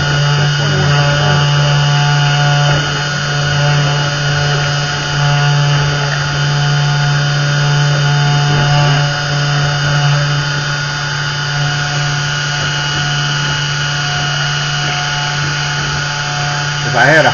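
A 3018 Pro CNC router running its spindle at full speed while milling a double-sided PCB, giving a loud, steady high-pitched whine with strong harmonic tones that holds throughout, with possible faint talk beneath.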